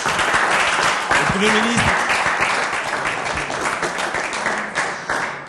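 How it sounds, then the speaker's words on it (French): Audience applause at a live show with a Fally Ipupa lookalike, a dense sustained clapping under a voice speaking over it. "On applaudit, s'il vous plaît"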